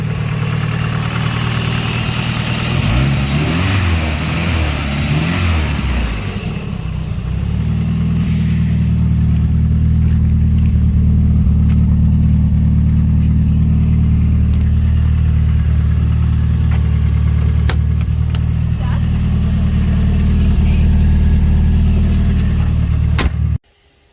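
Ford Escort Mk2 engine running loud and close throughout, with a few rising revs early on before it settles into a steady idle that cuts off abruptly at the end.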